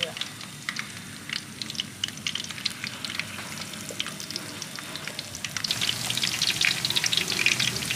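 Battered linh fish frying in a non-stick pan gives a steady, close crackling sizzle that grows louder and brighter toward the end.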